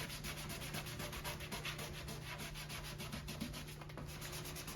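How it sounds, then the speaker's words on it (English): Stains on a wet-treated mid-century modern wooden coffee table are scrubbed with quick rhythmic back-and-forth strokes, a quiet, steady close-up rasping with no talk. "it can't hurt to give some of the stains a little bit of a scrub"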